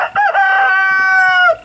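A rooster crows once up close, a loud, clear cock-a-doodle-doo with a rising start and a long sustained note that fades out.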